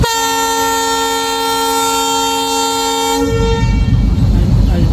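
A loud, sustained train horn blares steadily for about three seconds as a train departs Lokmanpur, then cuts off as a heavy low rumble of the moving train takes over.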